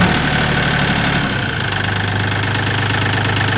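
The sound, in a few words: Kioti CK10 tractor engine starting and idling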